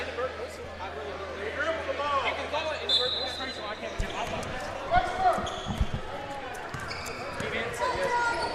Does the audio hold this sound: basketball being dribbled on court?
yes